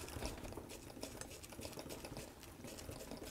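A Singer Model 20 toy sewing machine runs a test stitch, producing a faint, steady whirring patter with quick rhythmic ticking from the mechanism, very quiet and close, with no voices.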